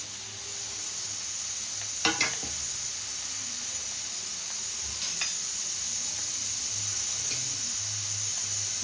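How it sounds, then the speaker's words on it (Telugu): Okra cut in half-inch pieces being dry-fried in a pan without oil, giving a steady close hiss and sizzle with a few brief scraping stirs, no voices. "ఇలా నూనె లేకుండా వేయించుకుంటే మొత్తం జిగురు అనేది పోతుంది"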